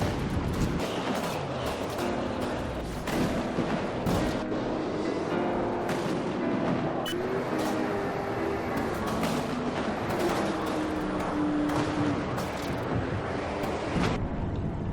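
Cannon and explosive fire in a From the Depths naval battle, with dense overlapping booms and blasts erupting continuously over a rumbling, wind-like background and a faint tonal whine, loud and near throughout.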